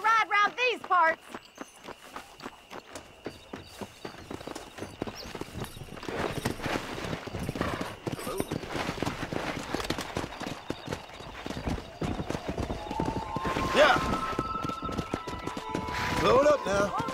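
Horse hooves clip-clop steadily through a Red Dead Redemption ride, a continuous run of close, even beats lasting throughout, with a brief horse whinny and occasional voices talking over the hoofbeats.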